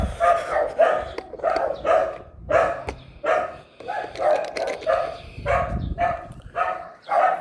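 A dog barks repeatedly in a steady, rhythmic series of loud, close barks, with some background noise underneath.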